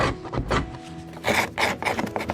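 A sharp hand scraper strips grease from the wooden ribs of a boat bilge, giving short rough scraping strokes up close with no talk.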